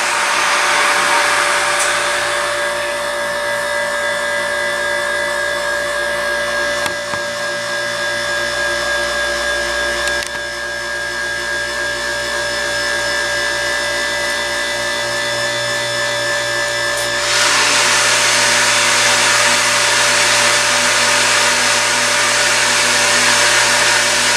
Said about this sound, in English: So that's what the motor sounds like on this thing.